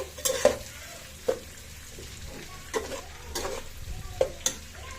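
Vegetables stir-fried in a pan, with a steady low sizzle broken by several sharp scraping and clacking strokes of the spatula spread across the stretch, close by and moderately loud, no voices.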